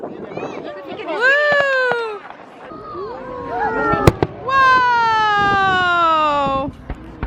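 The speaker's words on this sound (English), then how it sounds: "Ooh, I hear fireworks." Fireworks burst outdoors on Bonfire Night, with sharp pops and crackles breaking through as nearby people exclaim loudly in long, rising cries of excitement.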